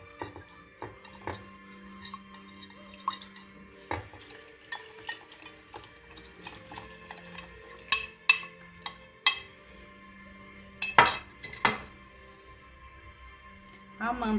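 Milk and cornstarch being mixed in a pan give soft, intermittent clinks and scrapes of a utensil against the pan, with a few sharper knocks, beneath someone talking over a low background hum.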